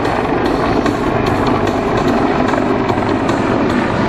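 A large navy helicopter, 99 feet long with a rotor about 78 feet across, roars loudly and steadily at an air show practice, a dense, constant engine and rotor drone without voices.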